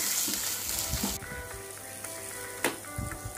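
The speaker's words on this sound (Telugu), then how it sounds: "ఇప్పుడు ఇవన్నీ కూడా ఒక 2 మినిట్స్ కుక్ అవ్వాలి ఆయిల్లో." Kasuri methi and spices fry in hot oil for palak paneer, giving a soft steady sizzle with a few light clinks of a spoon against the pan, close and fairly quiet.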